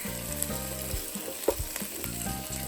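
Creamy refried beans sizzling and popping in a hot pan, a dense crackle of frying with small splatters and a brief clink of a masher or spoon, fairly quiet and steady.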